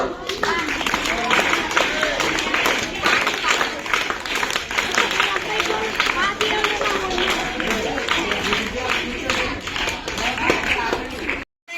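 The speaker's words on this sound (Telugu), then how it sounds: "చప్పట్లో" Clapping from a crowd at a school Sankranti celebration event, uneven and continuous under overlapping chatter and voices for most of the stretch.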